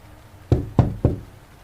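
Three firm knocks on a bunker door, sharp and close, evenly spaced over a faint room hum with no voices.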